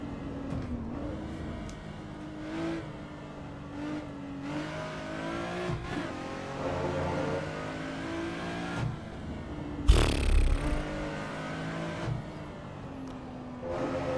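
A supercharged car engine in the racing game Assetto Corsa EVO revs and climbs through gears, its harmonic drone rising and falling with a sharp louder burst midway, heard alone without talk.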